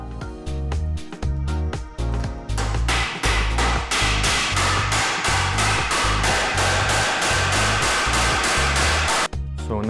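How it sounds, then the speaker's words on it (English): Hammer blows drive a nail into a hardwood floor, a rapid run of sharp, loud, evenly spaced strikes close by with brief pauses between bursts. "put a nail through hardwood floor"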